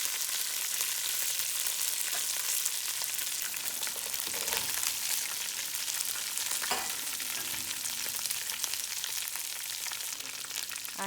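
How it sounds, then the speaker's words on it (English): Cauliflower pieces frying in a pan, a loud, continuous crackling sizzle up close with occasional stirring knocks, no talking. "When they are roasted, add cauliflower pieces"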